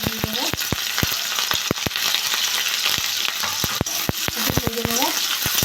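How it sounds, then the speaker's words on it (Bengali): Chopped onion and green chili fry in hot mustard oil in a pan, a loud continuous sizzle broken by frequent sharp clicks of stirring, with a voice speaking briefly. "আমি পেঁয়াজ আর কাঁচা লঙ্কা দিয়ে দেবো,"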